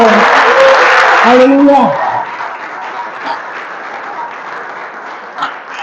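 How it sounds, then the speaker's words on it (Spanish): A church congregation applauds during a worship service, a loud burst of clapping and cheering that fades after about two seconds into a softer murmur of scattered claps while a voice calls out over it. "¿Por qué no le damos un aplauso al Señor?"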